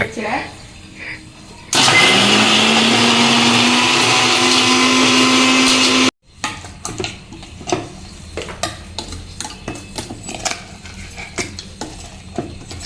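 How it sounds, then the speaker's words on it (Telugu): A kitchen mixer grinder grinds spice paste for stuffed brinjal kurma, a loud steady whirring roar lasting about four seconds before cutting off abruptly, followed by clattering handling noises, with voices talking before and after. "మిక్సీ పెట్టాలి ఇప్పుడు అది"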